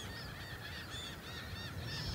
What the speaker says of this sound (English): You can hear all the ducks, the geese,